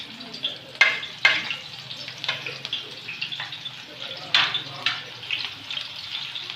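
Medium onion hits a cup of hot ghee for chicken daleem, sizzling and crackling up close as a spoon stirs and clinks in uneven strokes against the pot.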